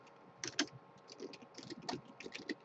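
Quick bursts of keystrokes on a computer keyboard as a short command is typed, close and fairly quiet, with a few separate clicks and short clusters over a faint steady background hum.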